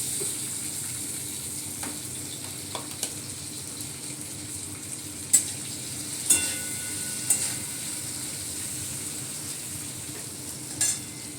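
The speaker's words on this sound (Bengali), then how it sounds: "কড়াইতে সরষের তেল দিয়ে কাঁচা লঙ্কা ফোড়ন, একটু কালো জিরা দিয়ে একটু টমেটো দিয়ে দিলাম।" Green chilli, black cumin and tomato frying in mustard oil in a wok, giving a steady close sizzle with a few sharp clinks of a spoon against the metal.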